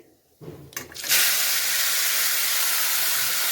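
Spices drop into hot ghee in a pan after a brief clatter, setting off a sudden loud, steady sizzle that hisses on evenly to the end.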